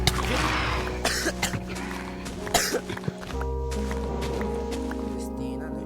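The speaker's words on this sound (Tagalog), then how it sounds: "Sino yung umuubo?" A person coughs, several harsh bursts in the first few seconds, close and loud, then a steady background hum with no more coughing.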